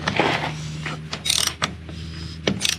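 Ratchet wrench clicking in short bursts while tightening a bolt on a Volkswagen Golf 2 GTI 8S gearbox, close metallic ratcheting with pauses and a few knocks.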